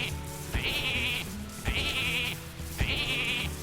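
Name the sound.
sheep bleat in the video game Hearthstone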